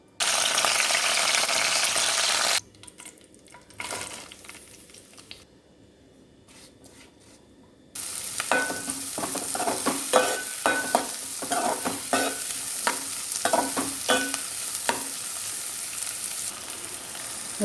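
Fresh curry leaves crackle in hot mustard oil for a bitter gourd stew: a loud sizzle, then a quieter pause, then a long run of close spatula scrapes and stirring over steady frying.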